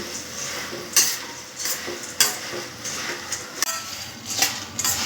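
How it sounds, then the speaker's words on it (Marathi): Puffed rice is stirred and tossed in a pan for bhel, with repeated scraping strokes and sharp metallic knocks of the spatula against the pan at an uneven rhythm, close and alone. "त्याच्यात हे कुरमुरे टाकून घेते. हे चांगले हलवून घेते."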